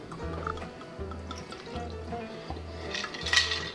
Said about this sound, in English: Tito's, can you pour it for me?